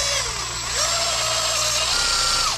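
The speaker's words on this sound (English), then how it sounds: "Gonna have to bust out the drill bit" A power drill whines continuously at close range, its pitch dipping and rising as the bit bores through a plastic rivet on a RZR, then cutting off abruptly.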